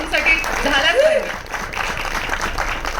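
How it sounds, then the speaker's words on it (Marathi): An audience at a Marathi film trailer launch claps in a steady round of applause, with a voice speaking over it near the start. "एकदा जोरदार टाळ्या आऊसाठी झाल्याच पाहिजे"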